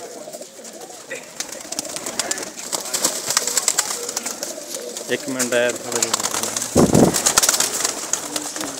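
Pigeons coo and call in a large rooftop loft in Khadriala village. The birds are close and mixed with other noise, and someone speaks briefly over them.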